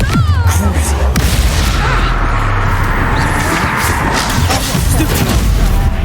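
Expulso and Confringo spell blasts in the video game Hogwarts Legacy burst in a loud, dense barrage of booms and crashes with heavy low rumble, filling the whole stretch without pause while voices shout briefly near the start.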